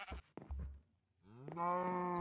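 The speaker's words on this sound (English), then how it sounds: "Mr. Cow, come with me, please." A Minecraft cow in the All the Mods 9 modpack gives one drawn-out, tonal moo that rises and then holds steady. It follows a few short game sounds and a quiet gap, and it is heard alone and close.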